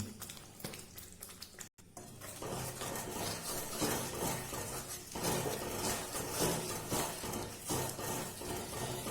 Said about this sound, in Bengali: এটাকে বেশ কিছুক্ষণ আমি কষিয়ে নেব, যতক্ষণ না এর থেকে তেলটা ছাড়ছে